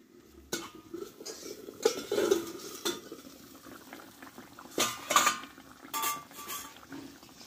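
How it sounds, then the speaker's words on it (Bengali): A lid is lifted off a pot of simmering Chandana fish jhal (fish curry), giving a few sharp metallic clinks and clanks spread over several seconds above a soft bubbling, with no talking. "ঢাকনাটা আমি তুলে দেখবো কেমন আছে"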